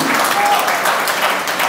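Brief burst of audience applause at a political speech, a dense wash of clapping heard together with a speaking voice, loud and close.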